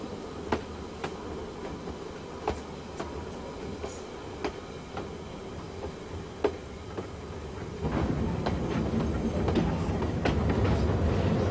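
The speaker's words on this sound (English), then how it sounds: "Train 819, the unique sound in the Buller Gorge." A West Coast freight train hauling cement and coal wagons through the Buller Gorge, New Zealand, with a low rumble, spaced sharp wheel clicks, and a louder, denser rolling roar building near the end.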